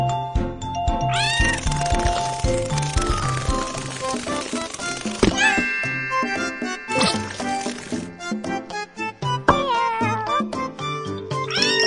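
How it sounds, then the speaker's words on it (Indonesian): Cartoon kitten hiding under a car, meowing in short high mewls over a busy bed of bright, melodic cartoon music that runs throughout. "bagi anak kucing untuk bersembunyi di bawah mobil"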